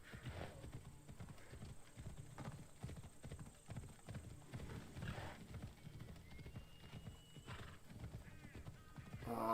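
A horse gallops in the video game Assassin's Creed Odyssey, its hooves beating out a quick, regular clip-clop rhythm that runs throughout at a low, even level, with a whinny near the end.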